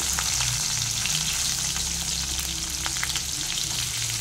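Onions frying in plenty of hot oil for a fish curry, a loud, steady sizzle close up with no break and no voices.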